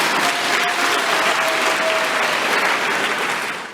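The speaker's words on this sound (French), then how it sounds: "Est-ce qu'on peut applaudir pour ça?" An audience at a local public gathering bursts into steady, dense applause, loud and sustained, tapering off at the very end.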